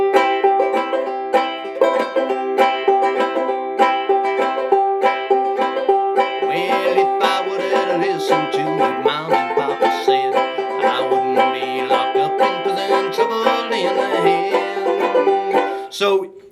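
Banjo ukulele played with a double strum, bright twangy chords repeating in a steady bouncing rhythm, close and loud with no talking.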